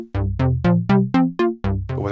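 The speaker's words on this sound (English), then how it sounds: "Again, the normal envelope sounds like this." A modular synthesizer arpeggio with a normal filter envelope: eight plucked notes in an even rhythm, each with a bright attack that quickly decays, played alone.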